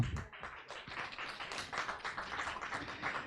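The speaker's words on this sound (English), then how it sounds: "let's give them again one more time a round of applause" Scattered clapping from a small audience at an architecture event, a loose patter of hands close by that stays at a moderate, uneven level throughout.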